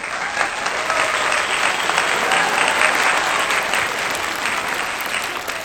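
Dense, steady applause from a school audience at an Urdu-medium prize distribution ceremony, loud and continuous for several seconds, with no voices rising above the clapping.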